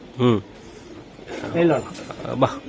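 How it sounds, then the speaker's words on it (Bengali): Pigeons coo in several short throaty bursts, close by, from racing and high-flying pigeons kept for sale, heard among a few brief human voices. "কলম মারা কবুতর"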